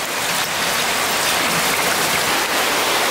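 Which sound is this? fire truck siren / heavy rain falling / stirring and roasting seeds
heavy rain falling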